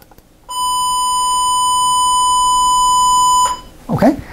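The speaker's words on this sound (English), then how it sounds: "Here's the square wave stimulus." A steady square-wave test tone, used as a stimulus in a lesson on the acoustics of hearing, holds loud and buzzy for about three seconds and then stops, followed by a brief burst of voice.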